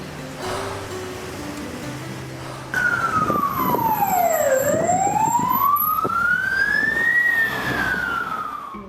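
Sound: ambulance siren arriving

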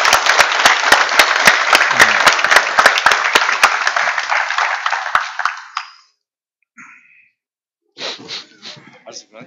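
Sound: audience applause

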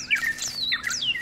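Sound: birds chirping in video game Mystery of the Ancients

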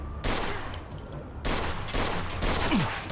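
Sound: gunshots from the video game Mafia II

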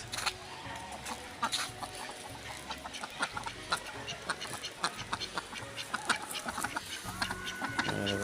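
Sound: domestic ducks in a village

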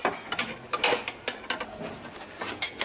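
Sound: 16 mm wrench loosening bolt on car engine

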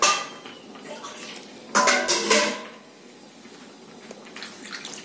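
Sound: water poured into a pot of chicken stew

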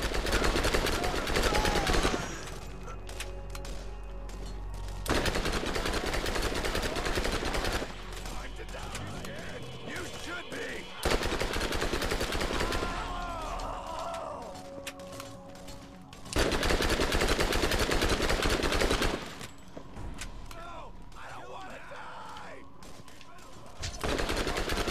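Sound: gunfire in the video game Borderlands 3

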